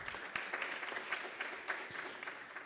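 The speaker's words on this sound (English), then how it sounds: "Let us give Ms. Mbanjwa another round of applause." An audience gives a round of applause at a campus safety launch event. The brisk, even clapping has sharp individual claps popping out of the steady crowd patter, with no talking.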